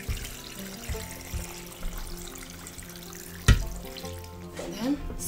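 Water is poured into a cooking pot over roasted dry red chilies, a loud splash and sizzle midway amid kitchen clatter.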